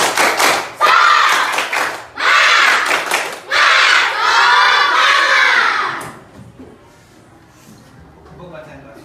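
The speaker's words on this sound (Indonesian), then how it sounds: "kita tepuk semangat dulu ya. Tepuk semangat." A class of Indonesian students performing the 'tepuk semangat' spirit clap, loud bursts of rhythmic group clapping and shouted chanting in three close blocks, then dropping to quiet murmuring and soft talk.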